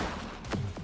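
A few sharp gunshots in the police video game The Precinct, two or three distinct cracks in under a second, close and fairly loud over background game noise.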